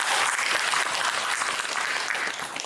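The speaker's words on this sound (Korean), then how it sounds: "박수 한번 주시죠" A crowd at a residents' redevelopment meeting in Jungnang-gu claps in a brief, loud, dense burst of applause lasting under three seconds.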